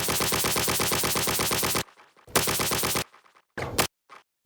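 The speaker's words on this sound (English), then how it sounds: "kind of hear the little slapbacks. Just a zap." Rapid, rattling bursts of a synthetic video game zapping weapon fire in repeated volleys, separated by short gaps with faint slapback echo tails, then a couple of brief zaps.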